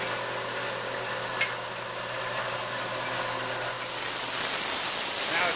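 CNC milling machine cutting around the perimeter of a handle, a steady broadband hiss of cutting and coolant over a low motor hum, continuous and fairly close, with a brief click early on.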